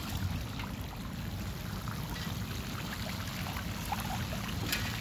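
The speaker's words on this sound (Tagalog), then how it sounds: "makikita mo yung agos ng tubig" Water rushes steadily downhill across a farm after a heavy storm with wind, thunder and lightning, a continuous broadband gushing wash, moderately close and unbroken, with no voices.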